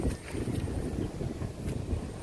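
Strong typhoon Carina wind buffets the microphone in gusty, rumbling waves, with a few faint higher flutters up close.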